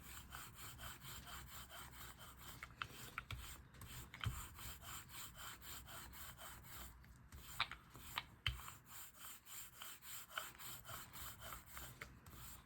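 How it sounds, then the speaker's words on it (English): A roller spreads yellow paint across a gel printing plate in repeated sticky, rasping strokes, a soft steady rolling texture with occasional tacky clicks, close and quiet. "So just spread out the paint across the plate."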